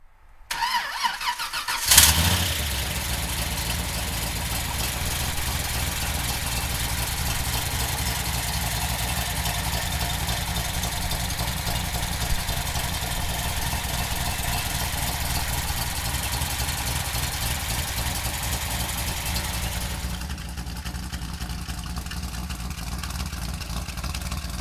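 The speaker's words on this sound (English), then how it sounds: "we're going to fire it up" A 1932 Ford Roadster hot rod with an Oldsmobile engine cranks briefly and catches with a sharp burst, then settles into a steady, loud, rumbling idle that continues for over twenty seconds.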